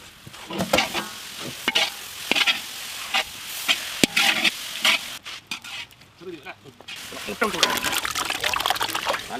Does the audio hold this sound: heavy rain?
no